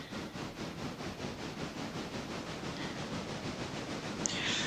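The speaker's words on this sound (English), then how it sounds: "So now this train is going to go back to the Lyra station" A train rolling along in the Railroader video game, a steady broadband rumble and hiss with faint regular clacking that continues throughout, swelling slightly near the end.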